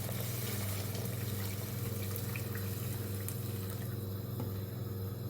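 Hot water pours steadily into a pot of lentil soup, a continuous close liquid rush and splash with no talk over it.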